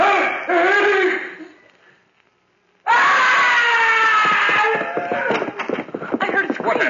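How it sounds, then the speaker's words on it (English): A woman's shrill screams from an old-time radio horror drama, The Crawling Thing: a loud burst, a brief near-silence, then a longer, wavering scream with echoing voices behind it. "heard a scream"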